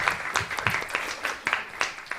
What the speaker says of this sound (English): I think we should all give a round of applause for that statement right there